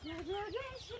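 Chickens cluck close by in a brief burst of rising and falling calls, fairly quiet.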